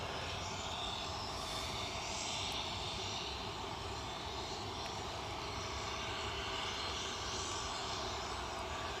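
Steady broadband roar of a Boeing 777 jet airliner at Newcastle airport runway, a continuous engine drone heard from some distance, constant in level throughout with no talk.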